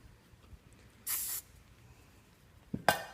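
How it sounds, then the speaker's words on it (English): Hairspray from an aerosol can sprayed onto a donut hair bun, two short close hissing bursts separated by quiet, the second preceded by a faint click. "I'm going to top that off with a little bit more hairspray just to keep the hairnet secured."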